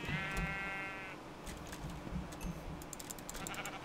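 Minecraft sheep bleat in a blocky game world, one clear wavering bleat near the start followed by clicky game sounds and keyboard tapping in the background.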